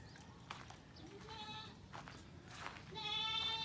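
Several sheep bleat nearby in a couple of wavering calls, over a steady low rumble of outdoor background noise.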